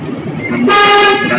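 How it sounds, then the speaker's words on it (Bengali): A single loud car horn honk, a sustained blare lasting about half a second after some low background noise. "এখানে হর্ন দিতে হবে হ্যাঁ"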